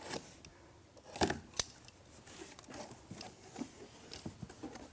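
A very sharp knife blade slicing open cardboard packaging boxes during an equipment unboxing, heard as a few quick, close scraping cuts and crackles within otherwise quiet handling noise.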